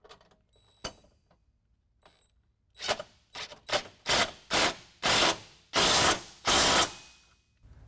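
A ratchet with a 1/2-inch socket tightens a running board bracket bolt on a 2014 Toyota Tundra, giving a quiet click or two, then a run of seven loud rhythmic ratcheting strokes, each longer and louder than the last, close by.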